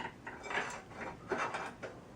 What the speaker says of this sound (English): I'm going to slide the fork back in carefully